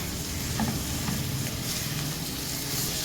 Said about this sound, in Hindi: फ्राई कर लेते हैं अराउंड 2 मिनट तक के लिए।